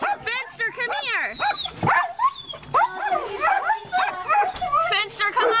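A dog stuck in a hole whimpers, yips and barks in rapid, rising and falling bursts close to the microphone, with people's voices mixed in among the cries.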